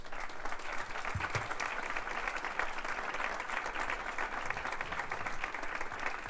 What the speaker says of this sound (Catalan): Demano un aplaudiment, en primer lloc, per al cor i músics de la Unió Musical de l'Aurora de Sella.